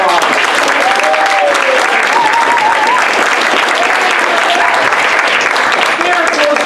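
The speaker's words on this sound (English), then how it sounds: "Give him a round of applause." Loud, sustained applause from a comedy improv show audience, dense clapping throughout with some voices and a bit of whooping mixed in.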